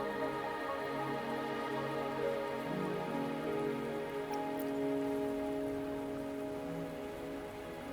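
Steady rain falls on surfaces in the Wuthering Waves video game, a dense continuous patter with layered background music tones, constant and fairly loud throughout with no voices.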